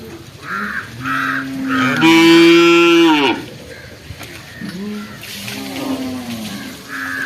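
Cattle moo loudly at an outdoor livestock market, one long low call from a bull in the middle among shorter lowing sounds, with crows cawing in the background.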